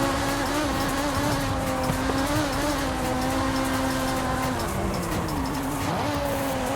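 BMW car engine accelerating hard from a standing start in the racing game Forza Horizon 5, a sustained droning whine with shifting pitch and other engines blending in, steady and loud without talk.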